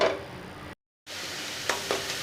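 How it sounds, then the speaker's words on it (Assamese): Coconut and sugar frying in a kadai give a steady sizzle with light stirring, broken by a short silent gap and then two brief scrapes near the end. "প্ৰথমতে মই নাৰিকলখিনি ভাজি ল'ম কেৰাহী এখনত"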